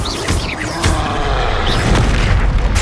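Flipendo spell cast in Hogwarts Legacy, heard as a loud booming impact with crashing bursts and a magical whoosh over dense game sound effects, sustained for about three seconds.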